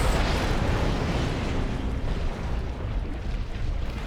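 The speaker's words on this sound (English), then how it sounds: "Rockets!" Rocket explosions in Armored Core 6, played in first-person mode, form a dense, loud, continuous roar of blasts and rumble that fills the whole four seconds with no pause or talk.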